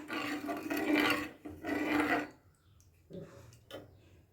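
Egg mixture being stirred in a bowl, two long raspy scraping strokes followed by a few shorter scrapes, close and fairly quiet with no speech.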